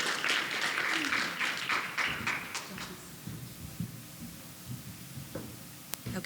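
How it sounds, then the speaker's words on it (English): Brief audience applause welcoming a presenter at a teen investing program session, a scattered burst of claps that fades out within about three seconds, leaving quiet room noise and a few stray taps. "Let's give her a round of applause."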